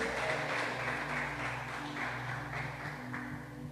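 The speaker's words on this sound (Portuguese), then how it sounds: "aplauda o Senhor e diga glória a Deus" A church congregation applauds, steady mass clapping sustained over a low droning hum, moderately loud and even throughout.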